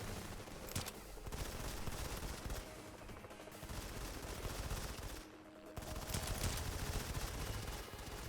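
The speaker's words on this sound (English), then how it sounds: "I can hear snipers going off, but where are they?" Rapid gunfire in a PC video game, dense and continuous bursts of shots at low level, with a short dip in the middle and no one talking.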